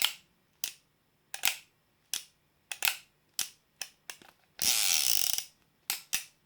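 A .357 revolver's mechanism clicks crisply and close, a series of sharp separate clicks spaced irregularly, then a longer metallic whirr like the cylinder spinning, followed by two more clicks, with no talk.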